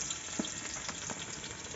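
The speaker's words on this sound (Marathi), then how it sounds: "तर आता टाकलेलं आहे लसूण आपाने." Garlic sizzles and fries in hot oil as the tempering for a chicken curry, a steady close crackle with a few stirring clicks.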